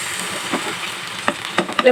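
Ash gourd fritters (chal kumra bora) fry in hot oil, a steady close sizzle with occasional sharper pops and spatters.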